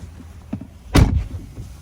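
A Tesla Model 3 door swings shut with a single solid, heavy thud, preceded by a faint click of handling amid quiet background noise.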